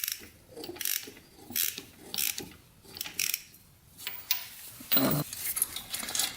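A timing chain on a 1988 Honda 250X quad engine spins in repeated bursts, giving rhythmic metallic ratcheting and clattering with short pauses between turns, close and fairly loud, no voices.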